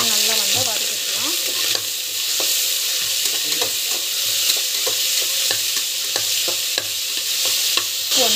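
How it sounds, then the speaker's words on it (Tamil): Onion and green chilies sauté in a hot pan for a jackfruit biryani, with a steady close sizzle and frying hiss. Repeated scraping and stirring strokes from a spatula break through it, and no one speaks. "ஸோ இது பார்த்திங்கன்னா நல்லா வந்து வதக்கிக்கலாம்."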